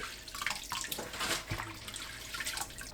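Hijiki seaweed being rinsed repeatedly in a sink under running tap water, a steady close splashing wash with small surges and drips throughout.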